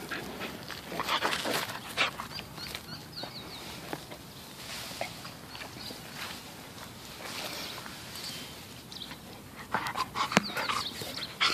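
A dog pants rapidly and closely, with soft whimpers and shuffling between breaths, fairly quiet and with no talking.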